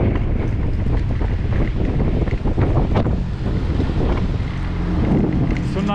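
Strong storm wind buffets the microphone in the Dutch fishing village of Urk, a loud continuous roar with gusts and surf noise, steady throughout with no clear talk.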